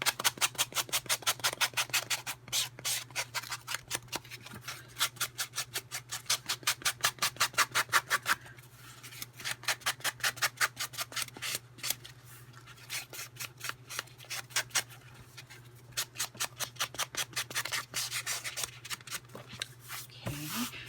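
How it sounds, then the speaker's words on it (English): Piece of a 2013 button farm kit being sanded by hand, a rapid run of short, scratchy strokes in steady bursts with brief pauses, close by over a low constant hum. "let's sand it a bit."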